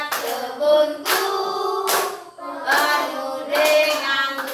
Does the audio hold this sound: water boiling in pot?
no